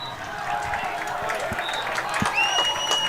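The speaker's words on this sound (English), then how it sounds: "A round of applause for Wildcat." Crowd applause and scattered cheering ring out at a boys high school lacrosse game between Northridge and Woods Cross, a steady, moderately distant wash of clapping with a few whistles over the field.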